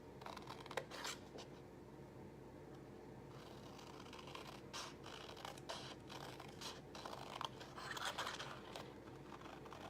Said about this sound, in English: So cut up to the score line and then snip this piece right out.